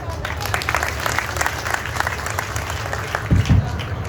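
A crowd at a farmers' protest sit-in in Noida claps loudly and continuously, with a few heavier thumps near the end.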